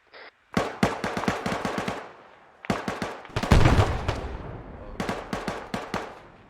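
Rapid automatic gunfire crackles loudly in a combat video game, coming in several sharp bursts of evenly spaced shots separated by brief pauses, one burst heavier with a deeper boom.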